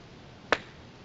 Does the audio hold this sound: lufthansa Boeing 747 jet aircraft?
no